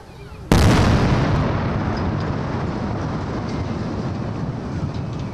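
A controlled TNT demolition of a five-storey building in a university courtyard in Tirana gives one sudden, loud blast, followed by a long, heavy rumble of collapse that slowly fades.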